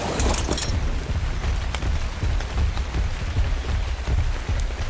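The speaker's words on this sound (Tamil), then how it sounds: "நம்ம ஜேர்னியை ஸ்டார்ட் பண்ண நேரம் மழை அடிச்சு பொழகுது கைஸ்." Steady, dense rain pours down in the video game Ark Survival, a loud continuous hiss with scattered drop patter and no voices.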